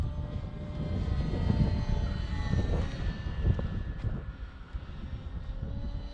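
A radio-controlled airplane flies at about half throttle on a windy day, its engine giving a steady, buzzing drone overhead with wind noise buffeting underneath, no voices present.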